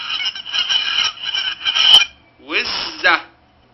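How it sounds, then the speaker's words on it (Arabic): Geese honk loudly and harshly on a farm in a dense run of overlapping calls, followed by a pause and a second, shorter burst, with no talking over them. "وزة."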